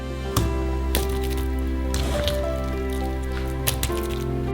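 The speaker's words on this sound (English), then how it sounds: "We pour all this into a mold." Thick cake cream mixture pours into a mold with soft wet squishes and drips, a few sharper knocks of utensil against bowl, close and fairly quiet over a steady low hum.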